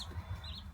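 Laying hens, brown and white birds along with Barred Rocks, cluck softly in a coop, a few low murmuring calls close by with faint background chatter.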